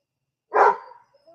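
A single short bark from a dog, fairly close and clear against a quiet background.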